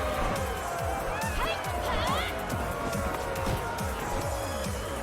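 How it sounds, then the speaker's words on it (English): A live crowd at a Street Fighter V Top 8 tournament roars and cheers loudly and continuously, with footstep-like thuds and a dense hubbub close by while commentators talk over it. "You're going to hear the crowd erupt every time Takamura lands a hit"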